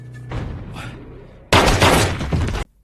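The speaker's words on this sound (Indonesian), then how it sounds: "Akhirnya Rock mengambil pistol dan membunuh Cheng." A single loud gunshot-like blast in the 2007 film War bursts out abruptly after a stretch of murmured voices and scuffling, then cuts off sharply.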